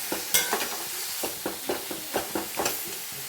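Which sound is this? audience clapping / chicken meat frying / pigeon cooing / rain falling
chicken meat frying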